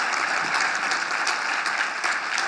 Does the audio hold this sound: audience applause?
yes